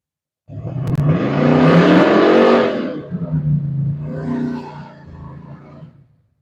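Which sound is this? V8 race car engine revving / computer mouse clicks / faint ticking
V8 race car engine revving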